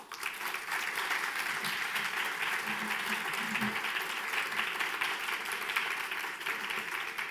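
An audience at a city's State of the City address applauds the mayor's speech with sustained, dense clapping that fills the room evenly for several seconds, with a voice briefly audible beneath it.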